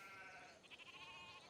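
A faint sheep bleat from the game Civilization 5 wavers briefly with a short quivering pulse, soft and alone, with no talking.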